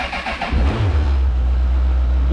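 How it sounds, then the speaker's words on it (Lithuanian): A cold motorcycle engine cranks briefly and catches, then settles into a steady, close, low idle with no voices over it. "mes jį užkuriam."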